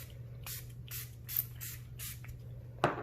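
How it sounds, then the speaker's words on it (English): A hand spray bottle misting water onto the wrinkly corners of a painting canvas, several short hissing bursts at a steady pace, fairly quiet and close, with a faint click near the end and no talk. "Sometimes the corners are kind of wrinkly looking, and so I'll spray them separately just to tighten them up a little bit."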